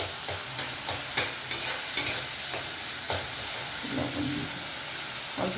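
Tomatoes cooking down in a pan for mocha ghonto, a Bengali banana-flower curry with bori, sizzling softly with a steady fry and occasional scrapes and taps of a stirring utensil, close up with no talk.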